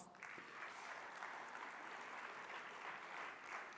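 An audience at a Bharatanatyam classical dance event applauds a dance guru with steady, dense clapping that holds evenly throughout, heard quietly and at a distance.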